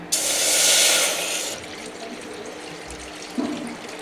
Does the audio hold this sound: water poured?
yes